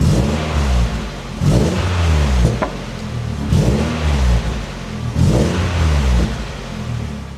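An MG ZR 160 engine fitted with an aftermarket air filter revs up and down in repeated loud surges, each rise and fall of pitch close and prominent, with no voices over it.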